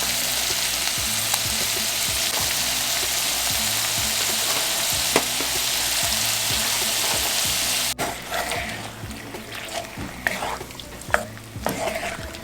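Large and medium shrimp and scallops frying in a hot pan for seafood paella, giving a loud, steady sizzle close by. After a few seconds the sizzle thins and is broken by scattered clinks and stirring scrapes.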